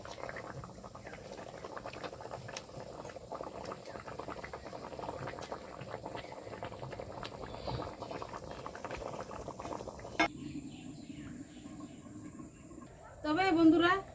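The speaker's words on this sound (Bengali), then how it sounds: "তারপরে ঝোলটা আমার ফুটে গেছে। এখন আমি মাছগুলো দিয়ে দিব।" Katla fish curry gravy bubbles at a rolling boil in a pot, a continuous close burble that thins out near the end before a short louder surge.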